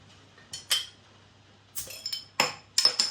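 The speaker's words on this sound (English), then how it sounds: "let's get the beer out into a glass and see what we get" A bottle of Isle of Skye Black Ale, a Scottish craft beer, is opened and poured into a glass, giving several sharp clinks and glassy taps with short bursts of pouring noise, close and fairly loud, no voices.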